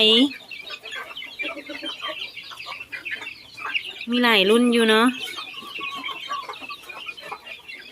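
Domestic chickens raised at a backyard pen for sale cluck repeatedly and close by, with a louder burst of excited clucking midway, while someone talks over them.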